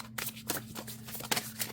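A deck of oracle cards being shuffled by hand, several quick riffling bursts close by, fairly quiet.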